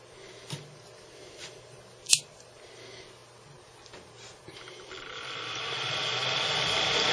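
A small electric motor started at 24 volts: a few scattered clicks and taps, then a whirring hum that builds gradually in loudness and pitch as it slowly accelerates.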